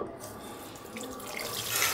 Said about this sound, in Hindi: गर्म पानी है लेकिन काफ़ी देर मैंने वो चालू रखी है टूटी, उसकी गर्म पानी नहीं आया